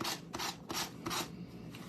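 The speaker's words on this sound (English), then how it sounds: "So I just use my sanding block" Quiet rasping of a sanding block rubbed back and forth along an edge, four short strokes in a steady rhythm, close by.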